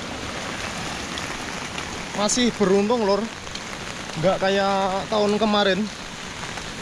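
Heavy rain pours down during a flood along the Kali Jepang river, a dense continuous hiss of drops drumming on surfaces, while someone talks over it in two stretches.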